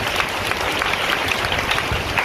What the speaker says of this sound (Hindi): ताली बजा के प्रभु के नाम की महिमा को।